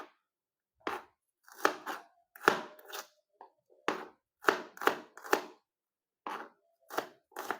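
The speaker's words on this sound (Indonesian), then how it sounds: "potong-potong dulu." A knife chops shallots and garlic on a cutting board in a home kitchen, firm close taps coming in short irregular bursts with brief pauses between.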